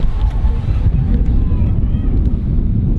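Strong gusty wind buffets the microphone at an outdoor festival campsite, a steady low roaring rumble that stays loud and close for the whole stretch.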